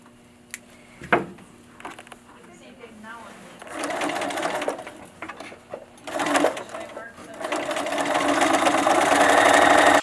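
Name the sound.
sewing machine stitching upholstery seam for wingback chair arm cover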